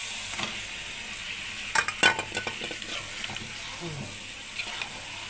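Pangas fish goes into a pan of spice paste that has been fried for five minutes. A soft, steady sizzle follows, with a few sharp clinks and stirring scrapes of utensil against the pan near the start.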